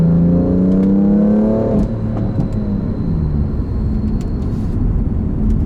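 A car with a manual-style gearbox revs loudly and steadily, engine pitch climbing and then dropping near the two-second mark as it shifts down, with the engine droning on continuously afterwards.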